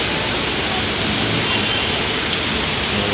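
Steady, loud rain drumming on the roof of a shop on a wet afternoon, a dense unbroken hiss with no voices.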